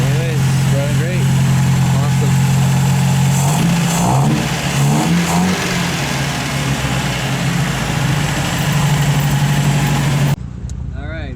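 A 1951 MG TD engine idles steadily and loud with carburetors freshly tuned and synchronized, a low throbbing hum holding even throughout with a few brief blips near the middle before cutting off at the end.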